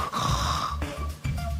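A voice imitates his father's very loud snoring, a rough, rattling snore held for about a second, then a short break and a second rasping snore, close and loud with no other speech.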